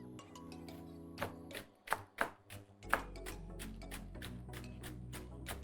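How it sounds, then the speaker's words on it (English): A knife chops scallions for a stir-fry on a cutting board, making a run of crisp, irregular taps. Several strokes stand out louder midway, over a soft steady background of music. "I'll just quickly chop up our scallions because I want them to hit the pan first"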